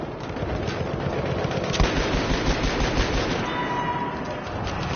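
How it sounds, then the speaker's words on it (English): Rapid machine-gun fire and gunshots from the video game Battlefield 1, loud and nearly continuous throughout, with bursts layered over a dense battle din. "Why are you shooting me, Charlie?"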